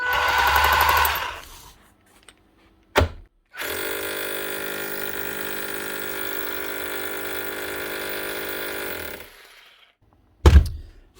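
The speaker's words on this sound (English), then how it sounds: "I'll just test the hammer action here now, make sure she does work." A repaired Panasonic EY7780 28.8V cordless SDS drill, fitted with a new brush ring and armature, runs in hammer mode, giving a loud, steady rapid hammering drone for several seconds between short bursts, close by and without talk.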